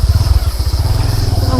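A motorcycle taxi (ojek) engine idling close by, a steady low, pulsing putter that stays even throughout.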